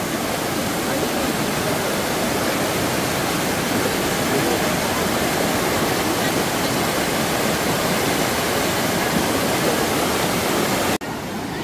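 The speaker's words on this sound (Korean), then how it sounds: "여기 제대로 된 폭포 있어요." Waterfall in Samil valley below Hwaaksan, Gangwon-do, pouring strongly into a deep mountain stream; a loud, steady, close roar of rushing water fills the whole stretch without pause, cutting off abruptly right at the end.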